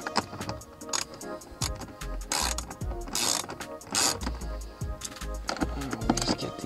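Ratchet with a 7mm socket loosening a fastener on a Ford F150 interior panel during a cabin air filter change, giving bursts of quick clicking pawl sounds close up, with intermittent clatter and handling noise.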